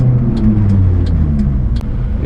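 A Suzuki mini truck engine runs close and loud in a steady low rumble during a race, with a few sharp ticks standing out over the drone.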